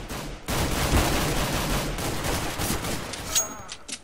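Rapid gunfire in Counter-Strike: Global Offensive during a pistol round, a dense burst of loud shots starting abruptly and continuing for several seconds, then a few scattered sharp shots at the end.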